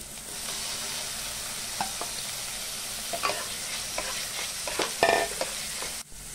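Tomato frying in a pan over a low gas flame, a steady close sizzle with scattered spoon scrapes and taps as it is stirred, no talking.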